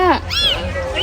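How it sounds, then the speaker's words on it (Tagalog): Short meows from a cat found in a hot spot with many other cats, three quick calls spaced across about a second, fairly close and clear over a low background rumble. "Ay, pusa!"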